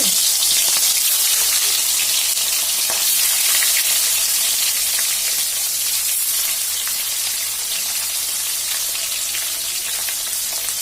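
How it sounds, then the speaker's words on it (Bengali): Hilsa fish pieces fry in plenty of very hot mustard oil with a loud, dense, steady sizzle close by, a continuous crackling hiss that never lets up. "আর এই যে দেখো আমি ইলিশ মাছের পিসগুলো দিয়ে দেবো, হালকা ভেজে নেবো।"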